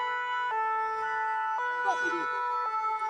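Ambulance sirens wail steadily at a farmers' protest with tractors, a loud tonal two-note siren repeating over a long stretch, with faint crowd noise beneath.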